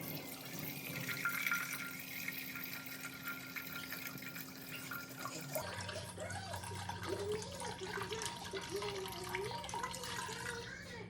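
Water pours from a container into an empty stand mixer bowl for pizza dough, a steady close splashing stream that shifts partway through as the bowl fills, with no talk over it.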